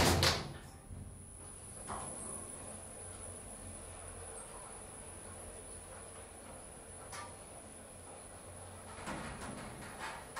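A 2013 OTIS Gen2 MRL traction elevator at a parking garage in Gent closes its doors, a soft sliding rumble with a few faint thumps and a steady high electrical whine under a recorded announcement voice.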